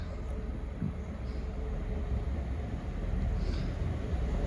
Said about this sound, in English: Arriving now is the 1406 Great Western Railway service from Basingstoke to Reading.